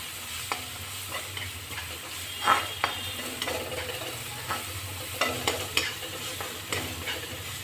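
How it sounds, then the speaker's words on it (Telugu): Ginger garlic paste frying in a pan, a steady sizzle with repeated scraping stirs of a utensil against the pan, close and fairly quiet throughout. "అల్లం వెల్లుల్లి పేస్ట్ బాగా వేగాలండి."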